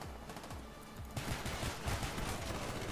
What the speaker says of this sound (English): Rapid fire MP5.